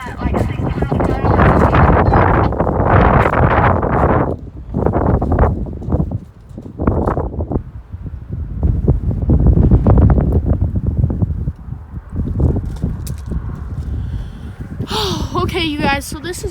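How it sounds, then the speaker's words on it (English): Strong gusting wind from a winter wind storm roars and buffets the microphone in heavy, uneven bursts, with people talking over it and rustling around. "Winds are gusting at like 6 miles per hour"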